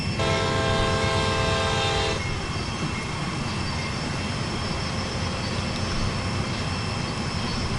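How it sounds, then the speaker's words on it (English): A stuck train horn in Train Sim World 2 blares as one steady, loud chord for about two seconds and then gives way to a continuous rumble of rail running noise. "Your horn's stuck on."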